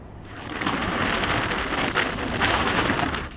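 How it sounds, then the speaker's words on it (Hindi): Strong cyclone winds on the Sindh coast of Pakistan during Cyclone Biparjoy, a loud, continuous roaring rush of wind buffeting the microphone, surging and gusting throughout with no voices. "तेज हवाओं का राज"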